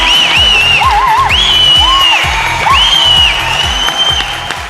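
Studio audience applause and cheering welcoming a music composer onto a Kannada comedy show stage, loud clapping beneath bright sustained music tones and a pulsing rhythmic beat.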